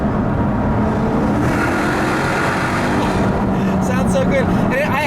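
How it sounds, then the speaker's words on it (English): A 2008 Maserati Quattroporte Sport GTS with a resonator-delete style exhaust in sport mode roars loud and constant from inside the cabin, passing under an overpass, while a voice talks over it. "I love the exhaust in sport mode too."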